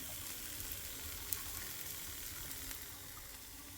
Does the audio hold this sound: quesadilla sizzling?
yes